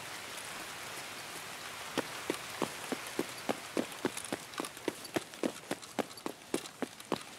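Rain falls in Escape from Tarkov as a continuous soft hiss, joined midway by a regular series of dull, rhythmic thuds that grow steadily louder.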